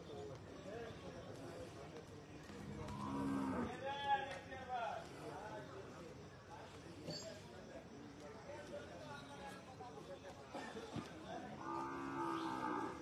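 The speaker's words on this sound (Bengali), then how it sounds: "এই দিকটায় আরো গরু আছে" Cows moo at a cattle market, a few drawn-out lowing calls at mid distance amid crowd noise and nearby conversation.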